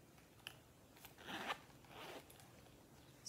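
A zipper on a gray Tory Burch handbag is drawn in quick, close, quiet rasping strokes, with short pauses between pulls.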